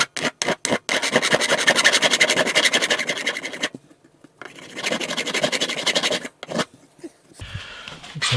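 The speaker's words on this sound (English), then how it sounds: "I'm going to use a file which is just glued on the bottom of this block just to take that end off" A flat file glued to a block rasps off the end of a guitar fret in close, repeated scraping strokes, a few short swipes followed by two longer runs.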